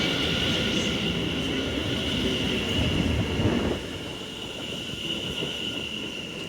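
A Class 720 train pulls into Stratford station with a steady low rumble and a sustained high whine, ending in a slight drop in level as it slows, with no voices.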